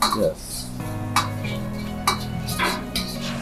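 Chicken wings are stirred and tossed in a pan, with a few sharp utensil clinks and scrapes against the metal coming through over steady kitchen background noise, close and moderately loud.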